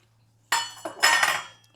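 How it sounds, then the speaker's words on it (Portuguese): A metal spoon breaks up butter in a bowl, making a few close, bright clinks and scrapes in quick bursts against otherwise quiet surroundings. "aqui eu vou dar uma quebrada nessa manteiga com a colher mesmo"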